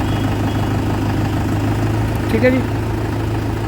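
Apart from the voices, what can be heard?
Mahindra 575 DI XP Plus tractor engine idling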